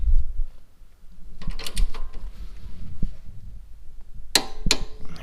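A ratchet or wrench tightening the sway bar link nut on a 2011 Chevy Equinox, with low mechanical rumbling, creaks and a few sharp metallic clicks close by, no talking.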